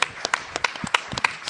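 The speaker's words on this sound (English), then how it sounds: "How about a round of applause for Intruder?" An audience at a live horror-film screening event applauds a short film with scattered, distinct handclaps from a modest crowd, sharp individual claps popping irregularly over a thin background.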